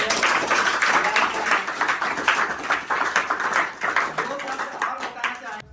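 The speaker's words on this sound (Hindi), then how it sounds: "तो एक बार जोरदार तालियां" Audience applause at a Teacher's Day celebration, a dense, steady clatter of clapping across the whole stretch with voices mixed into the crowd noise.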